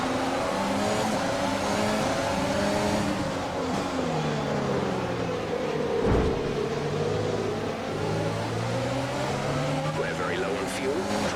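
Formula 1 race car engine in the F1 2020 video game droning steadily through a formation lap, with rising and falling revs, gear changes and a brief loud burst midway, while a voice talks over it.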